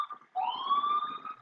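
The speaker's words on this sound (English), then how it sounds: "That was a Jersey siren." A single New Jersey police siren wail rises and holds, heard at moderate distance after a brief tonal blip.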